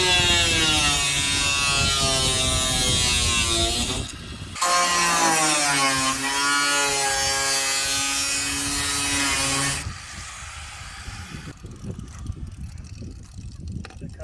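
A Sawzall reciprocating saw cuts through metal tube on a Hellcat-swapped E92 tube chassis, a loud, steady rasping drone that runs for several seconds, breaks briefly, resumes, then drops away to quieter shop noise.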